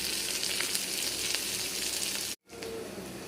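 Chopped red onion sizzles and fries in hot oil for a bottle gourd curry, a steady close crackling hiss that cuts out briefly near the end before resuming.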